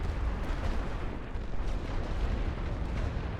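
A steady artillery barrage rumbles in The Great War: Western Front, with low booms piling into a continuous, loud roar and no clear gaps between shots.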